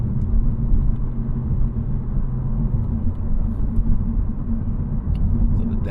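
A 2024 Honda Civic Type R or Integra Type S cruising in sport mode, giving a steady low engine drone and road rumble heard from inside the cabin, continuous and fairly loud, with no talking.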